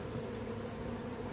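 Honey bees buzz at an open two-storey hive, a dense, continuous drone close to the listener with no voices.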